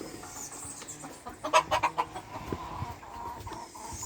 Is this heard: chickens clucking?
yes